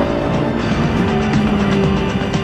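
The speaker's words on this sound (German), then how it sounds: "Die Maschine dreht problemlos bis über 8000 Touren" A Honda Integra Type R DC2 N1 race car's engine screams at high rpm past 8000, a loud, steady, close-up wail with shifting pitch and no talk.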